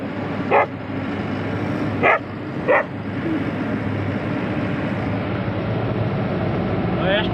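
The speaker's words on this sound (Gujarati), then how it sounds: "આ કૂતરો વાહે પડી ગયો" Three sharp, isolated dog barks from a short distance, spaced unevenly over a steady engine-like rumble and background noise, with a faint fourth bark near the end.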